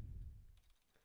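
Brief, quiet typing on a computer keyboard, a short cluster of soft key clicks over a low thump that fades within a second.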